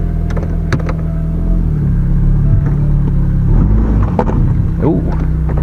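A car at a Copart salvage auction idles with a steady low engine rumble close by, someone talking over it as the motor runs and briefly picks up.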